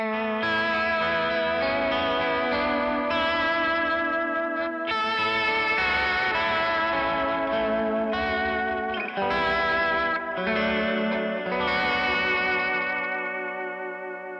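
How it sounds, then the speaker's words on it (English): Electric guitar chords ring out with a wide, shimmering plateau reverb and a wobbling bubble vibrato, sustained phrases washing into one another with brief gaps. "Little plateau reverb."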